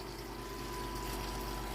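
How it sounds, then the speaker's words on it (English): A pump steadily recirculates the last of the hot water through brewing hoses during an Erdinger-style homebrew day, giving a continuous even hum with a rushing flow of liquid, close and unbroken. "We're just recircling the remainder of the hot water"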